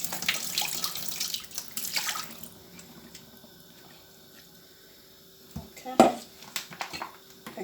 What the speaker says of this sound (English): run cold water over it